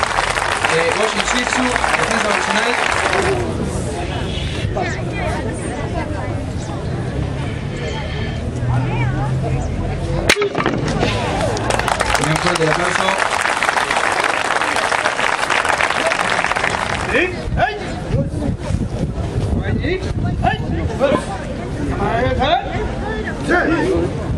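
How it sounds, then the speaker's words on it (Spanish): Audience applause after a Kyokushin karate demonstration at an outdoor flower fair in La Paz, Uruguay: steady, dense clapping mixed with crowd babble that runs through the whole stretch, with voices heard throughout. "Un fuerte el aplauso a la demostración."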